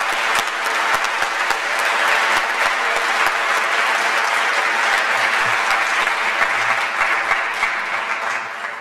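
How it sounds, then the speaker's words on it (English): Sustained, loud round of applause from an auditorium audience at a Veterans Day ceremony, dense even clapping for a jazz orchestra, steady throughout with no talking. "Let's give them a nice round of applause."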